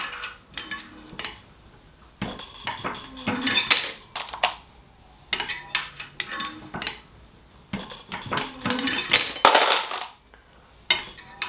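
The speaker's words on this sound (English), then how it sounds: "that's the spring steel against the ram making that grinding sound" Spring steel grinding against the ram of a brass reloading press while processing 6.5 Creedmoor cases, repeated bursts of harsh metallic scraping and clinking in uneven strokes, close and fairly loud with pauses between.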